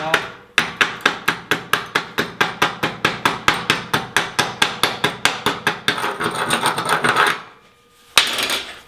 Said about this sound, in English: We just chip all this off.